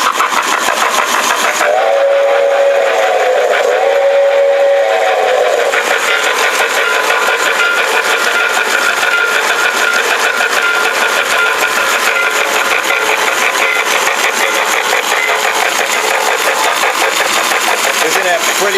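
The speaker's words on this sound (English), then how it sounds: "It has electronic whistle, the sound of steam, puffing smoke, transformer." A Lionel model steam locomotive with its top removed runs on track, its electronic steam whistle sounding near the start over a loud, continuous hiss of steam and rapid chuffing that persists for the whole clip.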